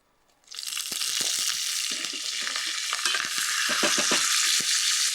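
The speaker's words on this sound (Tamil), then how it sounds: "அந்த எண்ணெய் சூடானதுக்கு பிறகு கொஞ்சம் கடுகு சீரகம்" Mustard seeds, cumin and curry leaves crackle and sputter as they drop into hot oil, a loud, dense sizzle starting abruptly and holding steady with sharp popping bursts throughout.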